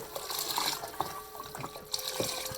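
Chicken stock poured into a pot in a home kitchen, a steady splashing, gurgling stream of liquid at close range with a few sharper drips and clinks, no talking.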